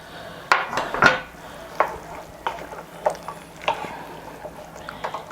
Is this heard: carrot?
yes